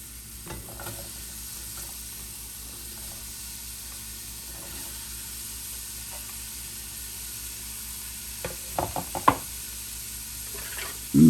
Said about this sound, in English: And give it a stir just to get everything coated with the oil.